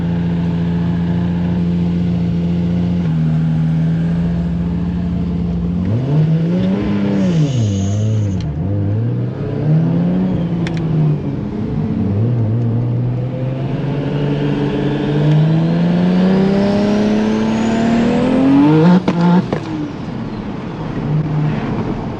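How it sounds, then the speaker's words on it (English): A 2JZ-powered MK5 Supra with a six-speed manual swap, its engine droning steadily at first, then revving up and down before climbing hard to high RPM in one long pull, loud and close. "This is definitely like a high RPM car."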